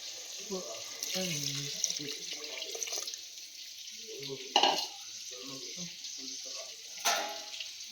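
Water poured from a measured vessel into a pot of soaked seeraga samba rice for chicken biryani, a continuous splashing flow with a few louder bursts of sloshing against the pot.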